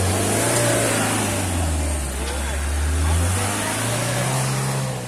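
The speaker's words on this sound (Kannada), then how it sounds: "ಎಸ್ಟೇಟ್ ಅಲ್ಲಿ ಓಡೋ ಗಾಡಿಗಳು ನೋಡಿ, ವೆಲ್ಲೇಸ್ ಆರ್ಮಿ ಗಾಡಿ ಇದು." An old Willys army jeep off-road on an estate track, with a steady, close engine drone that swells slightly as it revs. Wind and road noise hiss continuously over the motor.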